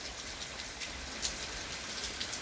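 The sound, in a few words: rain falling during a thunderstorm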